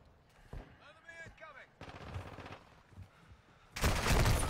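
Automatic gunfire from Call of Duty erupts as a loud, dense burst near the end, after quieter game sounds and muffled effects, with a player's voice faintly present.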